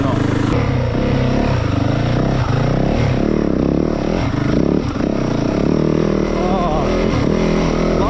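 A 2024 Yamaha WR450F dirt bike climbing hills in first gear, its engine loud and close with a steady throbbing drone and rising and falling revs over clattering terrain, while a rider briefly speaks.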